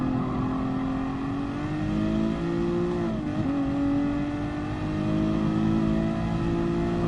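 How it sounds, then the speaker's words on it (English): Car engine in the GT Sport racing game, on sports hard tyres, droning steadily at high revs with a brief dip and quick climb as it shifts around midway, a smooth sustained engine tone alone. "the engine tone sounds great"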